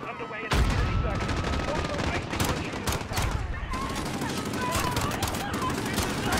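Rapid bursts of automatic gunfire and shots from Call of Duty Modern Warfare's campaign, dense and continuous for several seconds, loud and close with sharp repeated cracks throughout.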